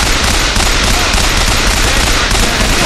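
Loud, continuous automatic gunfire from the video game Bioshock Infinite, a dense rapid stream of shots filling the whole stretch without pause.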